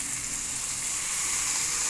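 Sweet leaves sizzle steadily in hot oil while cooking into a fish curry, a constant bright frying hiss with no pauses.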